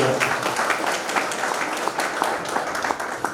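An audience applauds at a village welcome ceremony for a returning soldier, a sustained wash of clapping with scattered sharper claps and a murmur of voices underneath.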